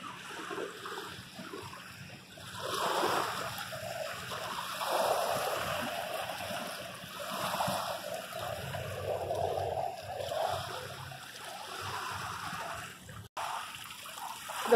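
Water laps and splashes at a city beach in Florida, a steady, gentle sloshing close by that swells and eases over time, with no talk.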